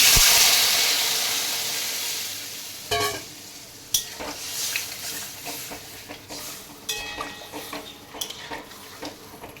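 Water poured into a pan of potatoes for a Bengali sour fish curry, starting with a loud hiss that fades into a bubbling simmer, punctuated by clinks and scrapes of a stirring spoon.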